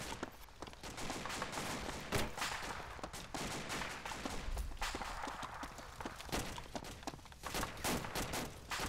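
Gunfire rattles on and off in ArmA 2, bursts of rifle and machine-gun shots popping from a distance with irregular rhythm, steady crackling volleys with no break throughout.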